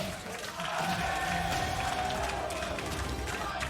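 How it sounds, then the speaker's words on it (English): Dense, steady roar of a large esports arena crowd in Berlin cheering during a League of Legends play-in match, sustained throughout with a faint tonal chant-like line riding on top. "The crowd in Berlin is alive with the name of Flamingo Esports"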